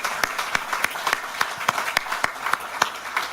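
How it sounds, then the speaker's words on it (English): An audience at a partnership summit roadshow in Australia's first parliament house in Sydney claps to welcome a speaker, a steady patter of individual claps at a moderate distance that continues throughout. "Let's give him a big round of applause to welcome him formally."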